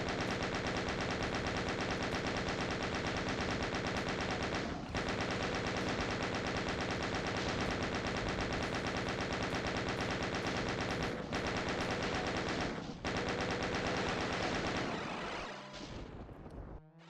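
A chain gun fires in the fast shooter game ULTRAKILL, a dense continuous roar of rapid shots lasting many seconds with only a few split-second breaks, loud and close, before winding down and stopping at the end.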